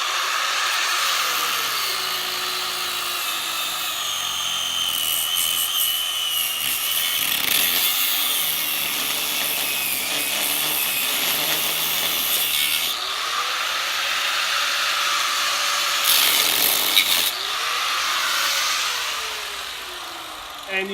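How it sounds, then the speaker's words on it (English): A chop grinder cuts through a scrap tire, steel band included. It gives a loud, continuous high-pitched grinding whine for the whole stretch, rising and falling in pitch as the blade meets the tire. "the rest I will slice with the chop grinder"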